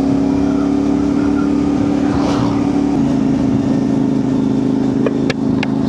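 Inside an LS2 Dragon motorcycle helmet while riding at about 50 km/h: a loud, steady rush of wind over a low motorcycle engine hum, continuous throughout with a few faint clicks near the end.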